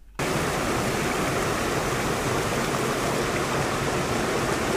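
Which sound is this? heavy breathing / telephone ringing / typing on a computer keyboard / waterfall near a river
waterfall near a river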